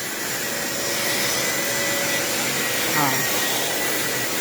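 A household vacuum cleaner runs continuously with a loud, steady whooshing roar close by, and a brief spoken exclamation is heard partway through.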